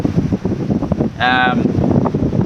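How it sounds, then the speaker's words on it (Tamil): Wind rushes and buffets the microphone out on a fishing boat, a steady rough roar beneath someone talking, with a brief tonal whistle partway through. "இது சரியான காற்று."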